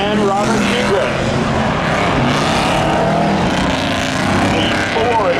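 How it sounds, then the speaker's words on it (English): At a spectator drag race at Seekonk Speedway, a Ford F200 pickup and a 1989 Chevy Camaro race, their engines roaring loud and close, with a rising, passing whine over the strip as an announcer talks. "Two competitors coming out to the track here."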